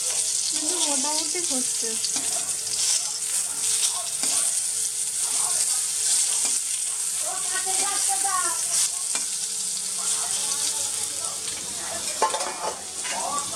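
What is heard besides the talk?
eggplant frying in a little oil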